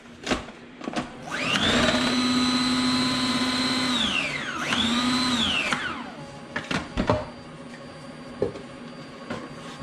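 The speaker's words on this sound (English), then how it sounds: "And we mix it all together." An electric mixer whirs through vegan gluten-free scone ingredients in two loud sustained bursts, the pitch steady then dropping as it slows, with clattering knocks of the bowl before and after.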